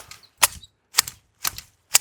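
Pruning shears cut through the stems of a flowering plant, four crisp, sharp snips at an even pace with near silence between them.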